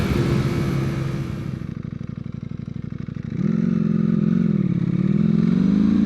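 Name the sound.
Ducati V4R motorcycle engine revving on road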